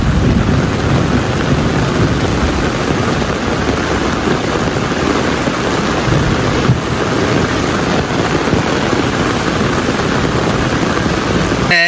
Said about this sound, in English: it rained again